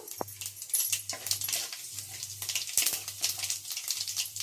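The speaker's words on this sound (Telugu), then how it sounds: "నూనె కాగిన తర్వాత పోపు గింజలు వేసుకొని దీనిలో మినపప్పు గింజలను కూడా వేసుకోవచ్చు" Mustard and urad dal seeds crackle in hot oil while tempering for vangi bath, with scattered sharp pops and a steady sizzle close by.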